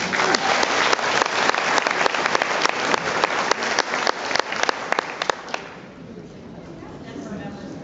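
Applause from an audience at a Friendship Force World Conference awards ceremony in Auckland, loud crisp claps with distinct individual hits near the front, then fading out to a quieter room murmur near the end.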